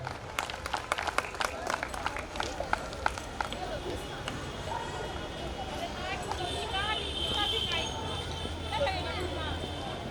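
An audience at a school spring festival gives a burst of applause for the chief guest, scattered claps in the first few seconds that give way to a speaker talking over crowd murmur.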